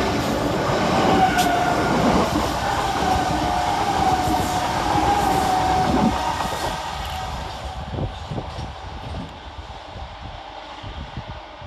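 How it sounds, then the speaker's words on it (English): Pair of Govia Great Northern class 387 electric trains passing through Bowes Park station, a close rumbling roar of wheels and carriages with a faint squeal, fading into rattling clicks as the train moves off. "Next up for Govia Great Northern is 387128 and 387111, working 1-Tango-18, the King's Lynn Flyer from London King's Cross to King's Lynn."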